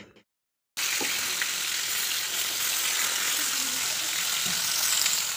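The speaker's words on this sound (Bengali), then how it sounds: "তো দেখো আমি এখন মাছ ভাজা করছি।" Marinated rupchanda (pomfret) fish frying in a pan of plenty of hot oil, a steady loud broadband sizzle that starts abruptly after a brief quiet moment and continues without pause, with faint clinks beneath.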